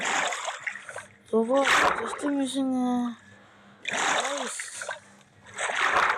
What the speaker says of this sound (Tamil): ஐயோ பிரதர் பார்த்தீங்கன்னா தண்ணிக்குள்ளே மூங்கிட்டோம்